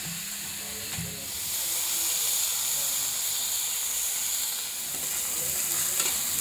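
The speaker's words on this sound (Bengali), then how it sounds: "আম্মু এক পাশে থানকুনি পাতা চুলাতে ভাজি করতেছে, আর অন্য পাশে মাছ পেঁয়াজ এগুলো ভাজি করে ভর্তা করতেছে।" Thankuni leaves and fish with onion frying on a home stove, a steady loud sizzle and hiss with occasional stirring scrapes, close up and continuous, no talk.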